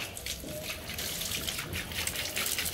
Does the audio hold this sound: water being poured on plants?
yes